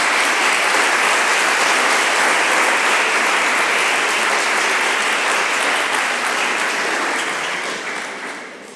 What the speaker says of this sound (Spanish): vamos a darles un aplauso porque algunos estáis por aquí